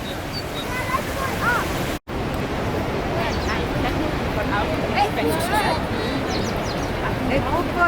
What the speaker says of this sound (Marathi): हे बरं का खूप जोरात पाणी येते बघ जरा